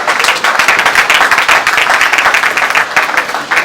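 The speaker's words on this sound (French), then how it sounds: "nous allons les accompagner par les applaudissements" Dense, steady audience applause greets teachers returning to their seats at a women architects' celebration in Kinshasa, continuous crowd clapping at close range with no voices standing out.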